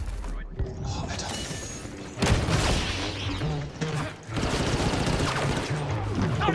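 Rapid bursts of gunfire in Star Wars Battlefront 2 crackle amid explosions and mechanical clatter, loud and continuous, with a voice talking faintly underneath.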